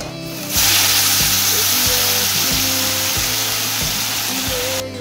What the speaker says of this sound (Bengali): এবারে তেলের মধ্যে কচুর শাকটা ফোড়ন দিয়ে দিব